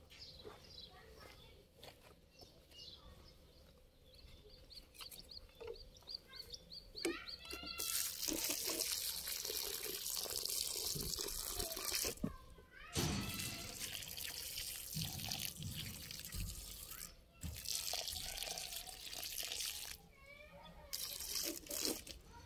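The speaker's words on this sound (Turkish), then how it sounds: "Şimdi bunlara can suyu vereceğiz." Water poured from a bottle onto freshly planted tomato seedlings in garden soil, a steady splashing trickle lasting several seconds, with chickens clucking in the background.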